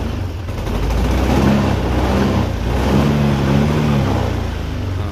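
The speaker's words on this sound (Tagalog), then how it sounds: "rev natin ha, para maniwala kay Mandar" Car engine revved while parked on a wet rainy-season day, with its traction control engaged, a loud, close, throaty roar that swells twice in long pulls and then settles, with no talk over it.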